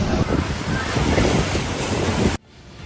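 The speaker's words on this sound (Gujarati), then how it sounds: "અરબી સમુદ્રમાં ભારે પવન સાથે કરંટ જોવા મળતા દ્વારકાના દરિયાનું રૌદ્ર રૂપ જોવા મળ્યું" Rough Arabian Sea waves churn at Dwarka under strong wind, a dense, roaring surf wash with heavy wind buffeting the microphone, continuous and loud until it drops away abruptly near the end.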